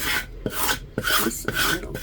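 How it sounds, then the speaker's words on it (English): Dried acrylic paint is scraped off a surface in four steady, rasping strokes, each a gritty drag close to the microphone with brief pauses between. "Usually I scrape it like into a cup so it's not all over the place"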